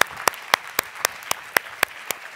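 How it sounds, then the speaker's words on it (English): Sharp, evenly spaced claps ring out at a talk on lifelong play, about four per second in a rhythmic pattern, fairly close and standing alone without voices. "with a big round of applause"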